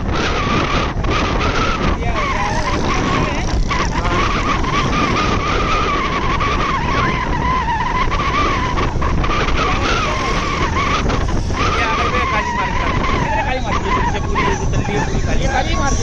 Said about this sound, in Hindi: ये देखिए भाई, ट्रैफिक जैम इसको बोलते हैं, ट्रैफिक जैम